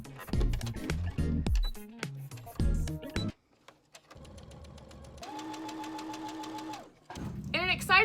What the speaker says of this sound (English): I prepped each piece and dug out my sewing machine.